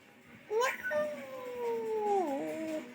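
A child imitates a cat's meow, voicing a single drawn-out, wavering cry with a falling pitch at the end, fairly close, over a faint room hiss.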